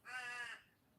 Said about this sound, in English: You might even hear them do their crow. See over there? He did his crow. They're called crows.